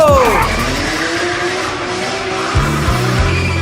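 Motorbikes launch at the start of a reckless bike race, engines revving hard with rising whines while tyres skid and squeal, loud and close, with voices mixed in.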